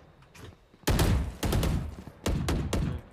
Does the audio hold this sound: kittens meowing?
no